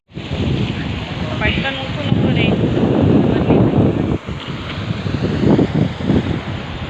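Sea breeze buffets the microphone along Marine Drive in Mumbai, a steady loud roar of wind noise with a faint murmur of the waterfront in the background and no talk.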